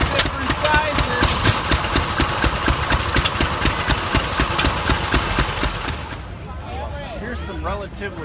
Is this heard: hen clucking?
no